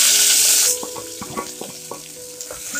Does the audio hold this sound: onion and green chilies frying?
yes